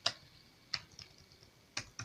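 Sparse, quiet key taps while PHP code is typed on a computer keyboard: four or five close, crisp clicks spaced irregularly over about two seconds.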